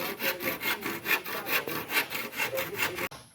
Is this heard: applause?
no